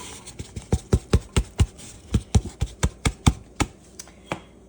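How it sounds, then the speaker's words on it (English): Vegetables and black beans for an organic black bean soup tumble into a pot as a quick run of sharp, close taps and soft plops, some bunched, some spaced, with no talk. "we're going to add all of our ingredients to the pot"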